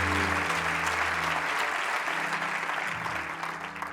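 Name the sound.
church congregation applauding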